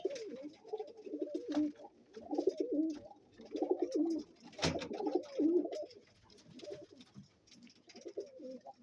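Roller pigeons, including a cock bird, coo in repeated soft, low, rolling phrases close by, with a sharp bump near the middle and faint background chirps.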